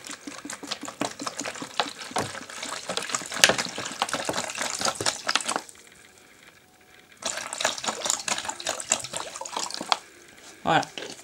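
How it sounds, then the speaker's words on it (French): Water pours and splashes into the bottom of a homemade plaster ant nest in bursts of gushing and trickling, pausing briefly midway before flowing again, close and fairly soft. "il faut mettre l'eau au fond"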